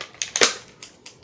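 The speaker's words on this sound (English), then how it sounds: "I have scissors here. Let me just snip it out." A few sharp, dry scissor snips cutting toy packaging ties, one louder crunching cut in the middle, then two fainter clicks, close and quiet.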